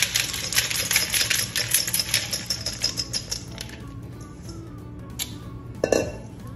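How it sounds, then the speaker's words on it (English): Chex mix being spread across a foil-covered baking sheet, giving a dense run of light, crisp clinks and rattles that ease off into quieter scattered taps, with one louder clatter near the end. "we're gonna spread our Chex mix out on the baking sheet"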